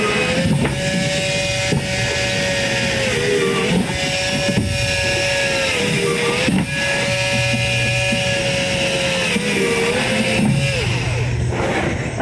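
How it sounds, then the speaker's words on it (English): A power drill whines loudly, drilling holes around the top rim of a plastic compost bin with a 1/8 to 1/4 inch bit, its pitch dipping each time the bit bites, repeating in several short bursts. "And I'll use a drill to make holes around the top rim."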